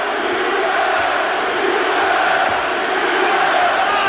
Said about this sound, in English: the crowd appreciating this work from Eubank, shouting out his name